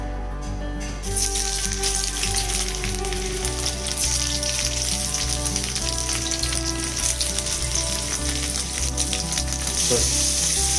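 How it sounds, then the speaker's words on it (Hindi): Paneer frying in preheated refined sunflower oil in a kadhai, a steady loud sizzle and crackle that holds throughout with no talk over it. "फ्राई करने के लिए मैंने कढ़ाई में रिफाइंड सनफ्लावर ऑयल थोड़ा प्री हीट कर लिया है। तो अभी मैं इसमें पनीर डाल देती हूँ।"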